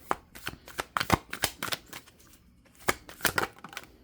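Tarot cards being shuffled and pulled from the deck, a run of quick crisp riffling flicks and soft slaps in uneven bursts, close and clear with brief pauses between handfuls.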